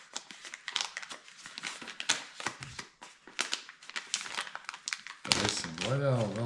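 A plastic bag holding a drone is opened and handled, giving close, busy crinkling and rustling in irregular bursts, followed by a person speaking over the sound.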